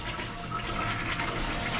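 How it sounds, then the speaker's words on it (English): A toilet bowl flushing during restroom cleaning and disinfecting, with a steady, close rush of water that runs continuously without speech. "When we're finished with the last bowl, we'll flush"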